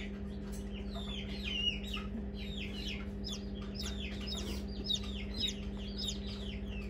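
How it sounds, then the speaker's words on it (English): A newly hatched white silkie chick gives rapid high peeps in a steady series over a constant low hum, close and fairly faint, no talking. "Peep, peep, peep."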